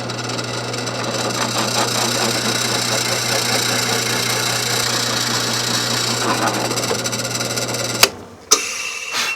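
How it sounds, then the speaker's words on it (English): A drill press hums while its bit grinds steadily through wood, ending with a couple of sharp knocks as it breaks through and stops. "I'll drill the hole through this piece and then the other three pieces also"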